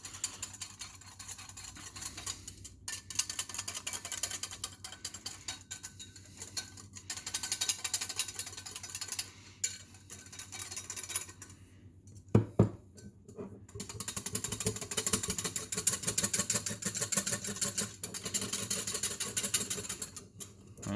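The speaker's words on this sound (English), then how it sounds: "we want to whisk this until it's relatively smooth without clumps" A whisk beats cake batter in a bowl until smooth, making a continuous, rapid scraping and rattling that is fairly quiet, with brief pauses and a sharp knock partway through.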